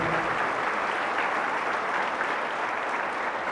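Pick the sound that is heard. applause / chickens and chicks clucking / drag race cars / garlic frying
applause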